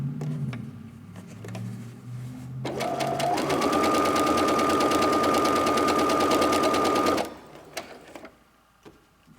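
Sewing machine back-stitching fabric for a scrunchie, a loud steady whirring run of about four seconds that stops abruptly, with quieter handling noises before and after.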